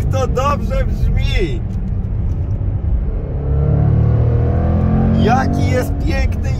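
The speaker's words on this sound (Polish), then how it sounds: "Nie dość, że wydech pięknie brzmi, pięknie oddaje moc ta V8-ka, to także ten kompresor." A supercharged 5.0 V8 in a 2022 Jaguar F-Pace SVR rumbles loudly through an open exhaust, swelling into a deep sustained roar midway, with short rev blips at the start and end.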